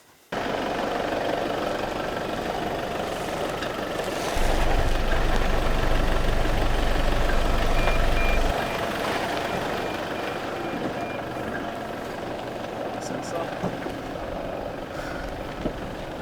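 A 2020 Toyota Hilux pickup on 18-inch rims and highway tyres at 15 PSI crawls off-road with the rear diff locked through off-camber ground and deep holes, its engine droning steadily with a heavier low surge midway and a faint repeating beep.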